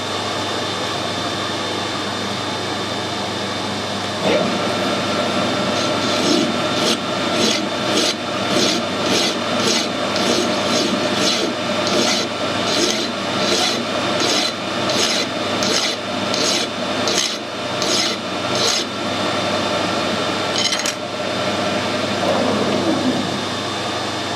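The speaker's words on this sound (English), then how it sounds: "I'm just going to put a little bit of a taper on with the file just so it starts nice and easy in the die" Metal hand file tapering the end of a 1/2 inch BSP airline adapter fitting, a steady series of rhythmic rasping strokes, close and loud, running for about twenty seconds with no speech.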